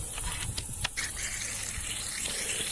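Water rushes steadily through a freshly repaired garden hose, a continuous hissing gush with a few faint knocks, close by and without any voices.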